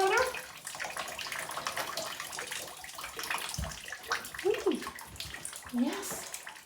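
A small dog named Mooney splashes and paddles in shallow bath water, producing soft intermittent sloshing and dripping close by, while a person talks warmly over it.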